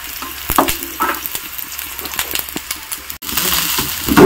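Onion crackles and hisses loudly as it fries in about 50 grams of oil for a tempering at a Sakleshpura resort, a close, continuous sizzle with scattered sharp pops and a brief drop near the end.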